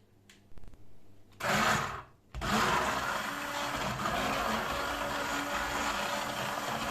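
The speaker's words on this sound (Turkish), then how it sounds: "Şimdi artık blenderdan geçirelim." A blender whirs on in short bursts while blending a black mulberry mixture, then runs continuously at a high, steady grinding whine.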